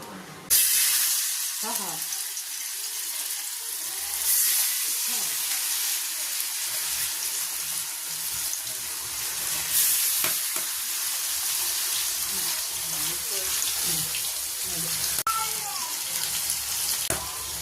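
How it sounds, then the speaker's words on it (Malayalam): Constant sizzle of kili fish (threadfin bream) frying in oil with curry leaves runs throughout, with occasional clinks and scrapes in the pan and a voice speaking intermittently over it. "ഇനി ഇത് നമുക്ക് തീയിൽ വറുത്തെടുക്കാം"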